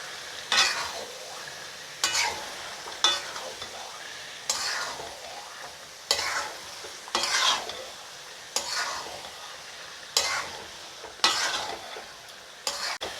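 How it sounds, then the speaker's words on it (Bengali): Broiler chicken meat sizzling and frying in hot oil in a pan, stirred and scraped with a utensil in repeated bursts every second or so, the hiss swelling with each stir and easing between. "আমি এখন মাংসটা দিয়ে দেব। এখন আমি কিছুক্ষণ কষিয়ে নেব।"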